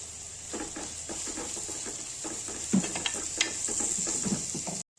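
Curry leaves hit hot oil in a pan already holding chopped ingredients, giving a steady close sizzle with scattered crackles and a few sharp pops, cutting off abruptly at the end.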